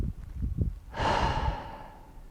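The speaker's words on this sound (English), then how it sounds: "Circular connected breath, the breath wave." Connected circular breathing in a breathwork exercise: a drawn-in inhale flows straight into one soft, unforced breathy exhalation that swells and fades, close and alone.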